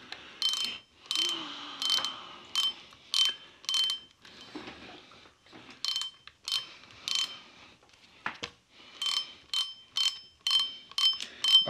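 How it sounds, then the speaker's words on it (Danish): A fishing reel with its spool loosened gives repeated ratcheting clicks and whirring bursts in irregular runs as line pays out, close and fairly quiet, separated by short pauses. "Men når lige løsner spolen, så kører det."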